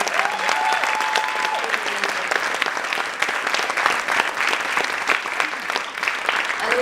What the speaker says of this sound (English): So please give a round of applause to everyone.